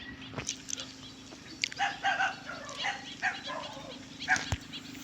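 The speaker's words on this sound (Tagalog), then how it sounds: "Aso ng foreigner, ang laki." A large dog barks a few times at a distance outdoors at dusk, faint against a steady hum of insects and background noise, with a bird call among the barks.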